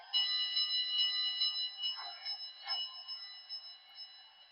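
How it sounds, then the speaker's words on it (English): A Southern Pacific GS Class HO-scale model steam locomotive bell clangs repeatedly in a steady ringing rhythm, fairly loud at first and slowly fading, with no voices. "So I'll hit the bell."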